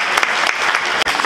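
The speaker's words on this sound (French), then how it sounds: "nous allons l'encourager par nos acclamations" A crowd at a Congolese traditional wedding celebration in Coralville, Iowa bursts into loud, sustained applause, dense overlapping clapping filling the room with a brief dip near the end.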